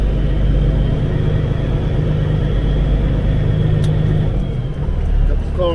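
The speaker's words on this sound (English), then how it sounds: "Couple cars coming here looking by." Cars pass by a torn-up facility with a steady, heavy low rumble of engines and tyres that swells slightly near the end, with faint voices in the background.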